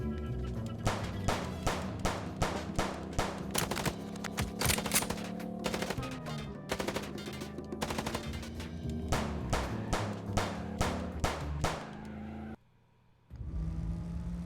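Rapid repeated gunfire during a car chase in the Chicken Police video game, a dense steady stream of loud sharp shots over a low engine drone, with a brief gap near the end.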